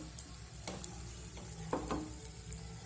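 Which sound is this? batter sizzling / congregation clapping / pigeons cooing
batter sizzling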